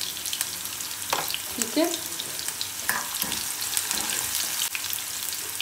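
Sliced onions frying in two tablespoons of desi ghee for a tadka, a soft, continuous sizzle with occasional stirring scrapes in the pan. A voice speaks briefly.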